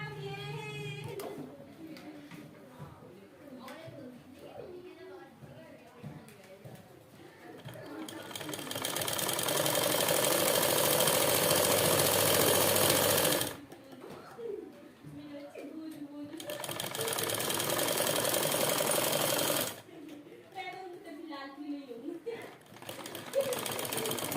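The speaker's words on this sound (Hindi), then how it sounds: "अब हम इसमें यहाँ इस तरह से इधर सिलाई लगाएंगे इस तरह से।" A sewing machine stitches the pocket of a girls' trouser in two long steady whirring runs, loud and close, with someone talking in the pauses between them.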